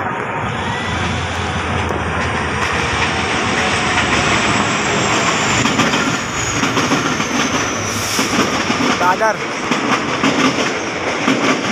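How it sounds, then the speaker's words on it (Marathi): A train roars past close by, a loud sustained rush and rattle with rhythmic clickety-clack of wheels, a voice faintly beneath. "ट्रेन बघा फास्ट."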